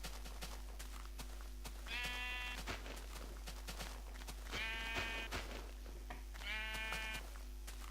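Sheep in the Minecraft video game bleat three times, each call a short wavering burst over a steady low hum and faint game ambience, with no voices.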